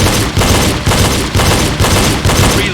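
Pistol fired during a reload drill, six loud, evenly spaced shots roughly half a second apart, each a sharp close crack with a short echoing tail.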